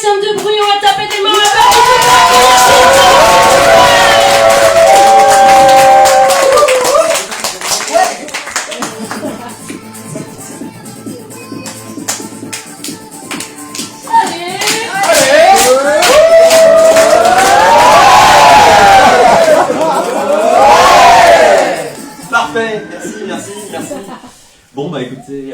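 A comedy club audience claps and cheers loudly, with bursts of whooping that swell, dip in the middle and surge again near the end, crowded and close.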